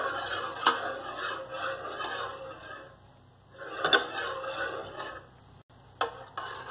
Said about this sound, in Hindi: इसको लगातार चलाते रहते हैं